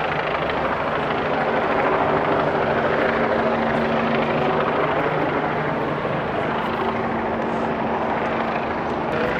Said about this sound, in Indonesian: Ini suara helikopter kencang sekali.